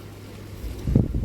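Hot wind blowing outdoors in a garden, a rough, gusty rumble of wind buffeting the microphone that swells louder near the end.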